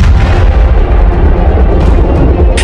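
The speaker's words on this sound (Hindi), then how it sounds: "हाफिज सईद के लाहौर स्थित घर के बाहर हुए जोरदार विस्फोट" A massive bomb explosion outside a house in Lahore roars as a loud, sustained rumbling blast that fills the whole stretch with dense, crackling noise.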